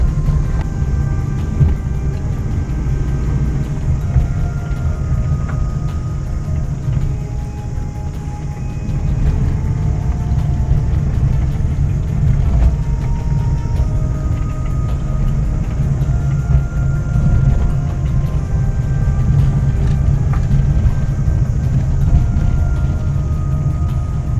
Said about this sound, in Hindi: अब मैं मतलब ड्राइव पे ऑटो गियर शिफ्ट में चला रहा हूँ